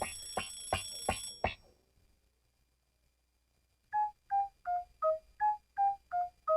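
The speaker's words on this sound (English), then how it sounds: "Ring! Get out of bed, Minnie, sings Minnie's alarm clock" A cartoon alarm clock rings in eight even, bright electronic beeps after a burst of brisk rhythmic ringing and a short pause of near silence.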